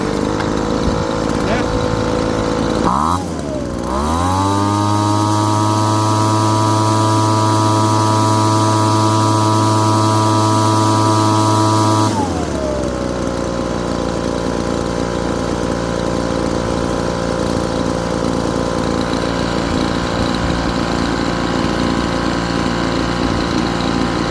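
A Craftsman 25cc two-stroke leaf blower engine sputters, catches and revs up at about three seconds, then runs loud and steady before dropping back to a lower idle around twelve seconds and continuing to run.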